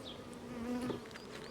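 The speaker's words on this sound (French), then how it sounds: "Je vais venir secouer les abeilles." Honeybees buzzing steadily and close as they are shaken off a hive frame while queen cells are handled, a continuous droning hum with no talk.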